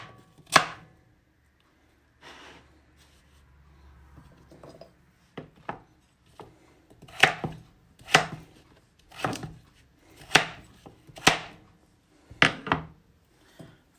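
A knife chops through firm raw pumpkin on a board, a dozen or so sharp thuds, sparse at first and then in a steady rhythm.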